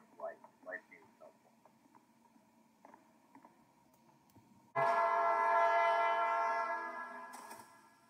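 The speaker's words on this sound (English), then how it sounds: "We got hit by a train and now we're ghosts." A train in a Roblox game rushes through with a sudden loud blast of horn and rumbling wagons, holding for about three seconds before fading, after a stretch of quiet game sounds and short bursts of talk.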